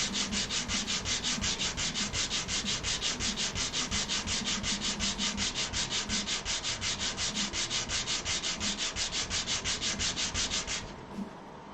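Radius sanding on a wooden inlay produces fast, even back-and-forth rubbing strokes that repeat steadily and loudly, then stop near the end.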